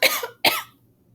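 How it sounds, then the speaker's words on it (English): Two sharp coughs close together, up close and loud, with a faint quiet tail after the second. "Told you the coughing was coming."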